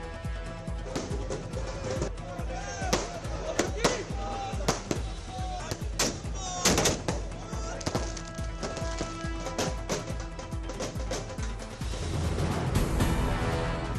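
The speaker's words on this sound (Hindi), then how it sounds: "बीजेपी कार्यकर्ताओं ने फोड़े पटाखे।" Sharp firecracker bangs burst at irregular intervals over a noisy crowd at an election victory celebration outside a party office in Maharashtra, India, some louder and closer than others.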